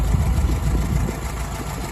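An International 404 tractor engine runs at a steady idle, a loud, close, even low rumble with a slight mechanical throb and no voices.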